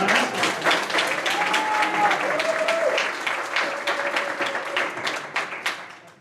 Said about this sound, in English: can we just get a round of applause for our wonderful moderator, Rebecca Gomez?